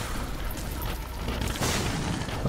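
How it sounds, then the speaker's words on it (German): Deep booming blasts and crackling bursts from The Binding of Isaac: Afterbirth, a steady rumble building to a louder explosion partway through. "Warum explodieren die von alleine?"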